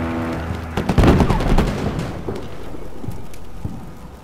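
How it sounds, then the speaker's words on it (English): HEAT rounds fired into a building in the military video game Combat Mission Shock Force: one loud, close blast about a second in, followed by a rumbling, crackling decay. "Chuck a few heat rounds into that building."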